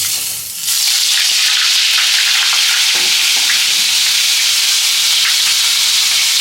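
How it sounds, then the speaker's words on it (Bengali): Butter hits hot oil in a wok and bursts into a loud, close sizzle that flares after a brief quiet moment and then holds as a dense, crackling hiss with faint stirring, no voices. "কড়াই তেলটা গরম হয়ে গেছে, এবার একটু স্বাদের জন্য দিয়ে দিচ্ছি মাখন।"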